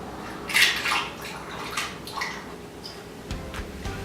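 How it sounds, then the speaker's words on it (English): Kombucha poured into a glass bottle with chamomile, lavender and sugar, close splashing liquid bursts with trickles and a few small clinks and knocks of glass, intermittent rather than continuous. "carefully pour kombucha into the bottle."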